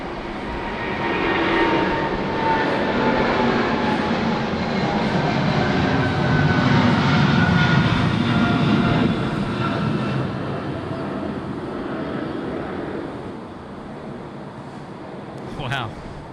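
An airliner lands on runway 34 left at Sydney Airport, a broad engine roar that builds, holds and then fades into the distance while radio voices talk over it.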